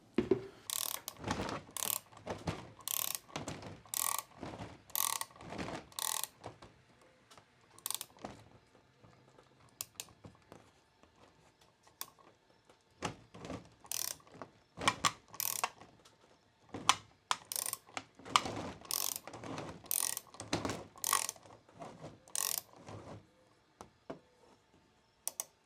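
Screws being driven into a 3D printed range hood vent cover through soffit material, with bursts of rapid ratcheting clicks from the tool separated by short pauses, close and fairly quiet.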